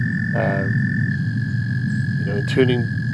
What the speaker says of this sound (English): these frogs were just deafening. I mean, they were so loud. And I recorded it.